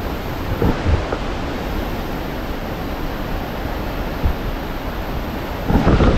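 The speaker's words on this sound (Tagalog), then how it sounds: "Pusog ang bundak sa tubig." Mindamora Falls pours down with strong force, making a dense, broad roar of crashing water that holds steady throughout, with a few louder surges.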